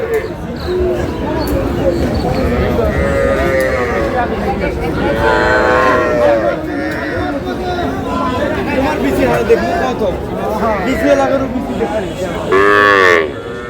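Sahiwal bull calves at a cattle market in Chattogram, mooing over a busy crowd with loud ongoing chatter and talk nearby.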